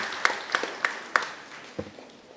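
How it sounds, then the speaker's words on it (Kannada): At a Catholic association gathering, a few sharp hand claps ring out in an even rhythm, followed by one softer clap, faint and sparse rather than a full burst of applause. "ಅದಕ್ಕೆ ಅವರಿಗೆ ಒಂದು ಕೈ ಚಪ್ಪಾಳೆ"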